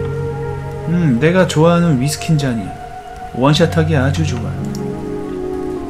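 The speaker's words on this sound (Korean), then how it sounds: "바깥에 비가 엄청 내리고 있구나" Heavy rain pours outside in a horror video game, a steady hiss running throughout beneath someone speaking close up.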